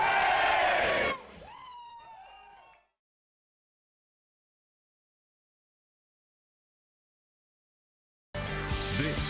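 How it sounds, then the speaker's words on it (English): A crowd at the Tampa Bay Buccaneers 50th season celebration screams and cheers in loud bursts, first a roaring surge that fades to scattered shouts, then a long silence before the cheering erupts again near the end. "All we have to do is walk down these steps and they just start screaming."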